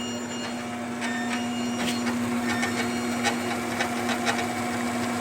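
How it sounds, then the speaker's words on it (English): A Craftsman bandsaw converted to a variable-speed treadmill motor runs slowly, its V-belt adding a steady hum and whine with irregular light ticking and slapping, a constant close mechanical drone with no talk. "it looks like that V-belt making some noise there"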